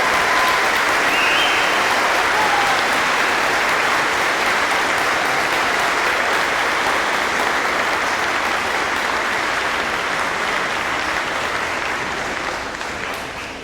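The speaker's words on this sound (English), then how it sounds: "Parents, one more round of applause for our teachers and faculty." A school auditorium audience gives loud, sustained applause for the teachers and faculty at an elementary school opening ceremony. The clapping is steady and dense for the whole stretch and fades slightly at the end.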